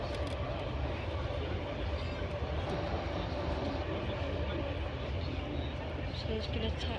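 A Kuwait Air Force C-17 Globemaster taxiing at Manchester Airport, a steady distant jet engine roar with a broad rumble that holds constant throughout.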